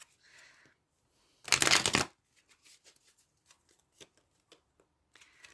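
Affirmation cards shuffled during a tarot-style reading: one loud, dense riffle burst of about half a second, then soft scattered taps and card slides, with a faint rustle at the start and end.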